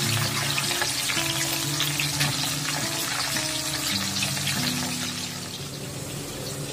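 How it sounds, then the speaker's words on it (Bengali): Pieces of cut rohu fish frying in hot oil for a thin curry make a loud, dense, continuous sizzle and crackle that eases slightly toward the end, with no voices. "মাছগুলো ভেজে নিচ্ছি।"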